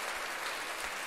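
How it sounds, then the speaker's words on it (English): Steady applause from a small crowd, dense clapping filling the moment without pause. "round of applause for that"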